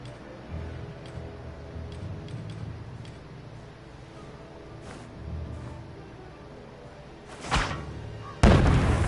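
Bombing explosions in the We Happy Few video game: low rumbling booms over a muffled background, ending in a louder blast near the close.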